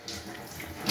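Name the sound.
pouring hot water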